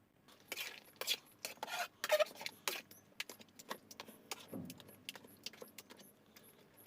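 A spoon stirring and mashing taro curry with dried fish in a pot, producing intermittent metallic clinks and scrapes at an irregular pace, fairly close but soft.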